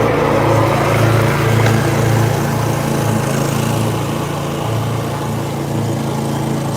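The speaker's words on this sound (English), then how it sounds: "Sorry for the noise. They got some dudes cutting grass." Lawn mowers cutting grass nearby, a steady droning engine hum that holds throughout at close range with slight swells, no voices.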